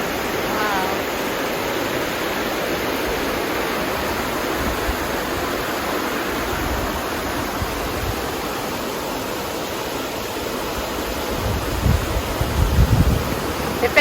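White water rapids on a river in Central Florida, a steady broadband rush of churning water that fills the clip at constant loudness, close and unbroken, with a few heavier low surges near the end.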